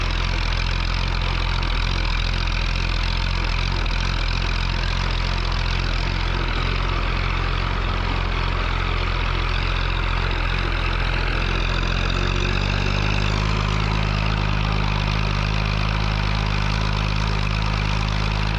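A heavy 1949 Fordson P6 Major tractor engine labours steadily uphill at a Scottish agricultural show, its deep rumble shifting lower partway through as the load changes, with no voices.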